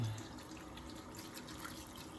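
Water pours faintly into a pot of tulingan fish being prepared for sinaing, a steady, soft trickling splash heard close by and alone.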